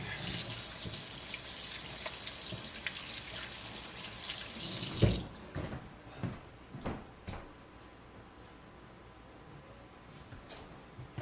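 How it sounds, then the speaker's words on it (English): Hands washed under a running kitchen tap: a steady close hiss of flowing water for about five seconds, then the tap shuts off, followed by scattered clunks, drips and handling noises. "Wash my hands off real quick."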